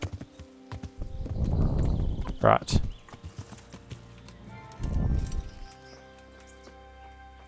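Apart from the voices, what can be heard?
horse hooves in Kingdom Come: Deliverance, video game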